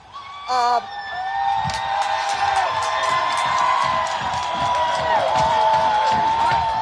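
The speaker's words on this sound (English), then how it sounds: "I just wanted you to hear the sound of people cheering as the 3rd precinct appears to be on fire at this time." A riot crowd cheers, whoops and shouts as a police precinct burns, a dense, steady roar of many voices with sharp whistles cutting through and a loud burst near the start.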